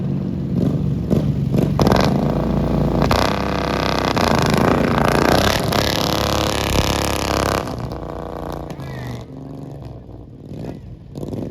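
Antique tractor fitted with two carburetors on top, revving hard at a tractor show pull, a loud continuous engine roar that rises and falls in pitch, easing off near the end.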